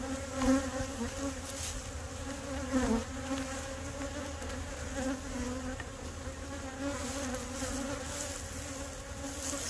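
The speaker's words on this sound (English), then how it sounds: "There are a lot of bees in there." Honey bees buzzing steadily around an open hive, a dense close-up drone that holds level throughout with no talk.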